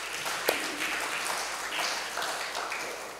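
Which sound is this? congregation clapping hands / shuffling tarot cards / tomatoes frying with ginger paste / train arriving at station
congregation clapping hands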